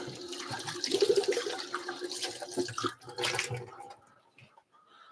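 Running water rinsing coffee-making materials at a sink, a loud, close splashing stream for about three seconds that thins out and fades to faint trickles.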